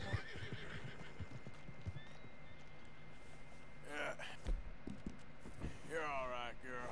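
A horse in Red Dead Redemption 2 steps with soft clip-clop hooves under a steady ambient hum, then gives two whinnying neighs near the end while someone talks.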